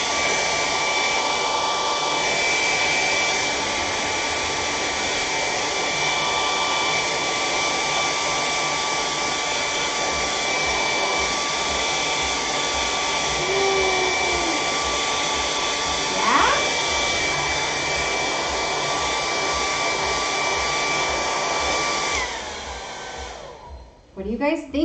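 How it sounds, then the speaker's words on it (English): A hair dryer blows on acrylic paint on a canvas, giving a loud, steady close-up whirr for over twenty seconds before it is switched off and a few faint handling bumps follow. "So I'm gonna get the blow dryer out and just blow dry these little mountains."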